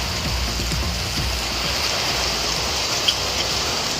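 Steady rain falls in Tamil Nadu, a dense even hiss of drops on surfaces with one small tap standing out near the end.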